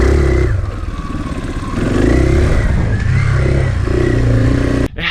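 A 2021 KTM 500 Enduro, street legal, revs loudly nearby in repeated throttle blips rising and falling over a rough idle, ending with an abrupt clunk.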